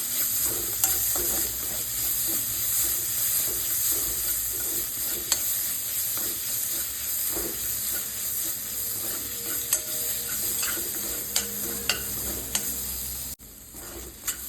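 A sandwich filling of boiled, mashed chicken masala with tomato, onion and carrot is stirred and mixed in a sizzling pan. Continuous frying hiss runs under repeated spoon scrapes and taps, then cuts off briefly near the end.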